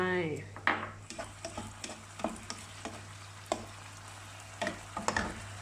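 Pork and kimchi sizzle in a pan after water is poured in, starting with a hissing splash, then a steady fry under repeated sharp clinks of a utensil stirring against the pan, nearby with no talk.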